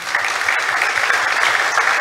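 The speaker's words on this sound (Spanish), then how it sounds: "Muchas gracias a nuestros tres expositores de hoy, para los cuales pido un fuerte aplauso." Audience applause for three presenters at a higher-education symposium: dense, steady clapping from a hall crowd that holds at an even level throughout.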